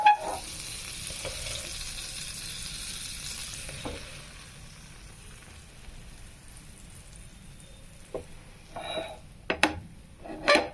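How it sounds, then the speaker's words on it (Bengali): Pav bread rolls frying in butter in a pan give a steady soft sizzle with brief clinks and scrapes near the end. "সবগুলোকে এবার ভেজে নিচ্ছি ভালো করে মাখনে।"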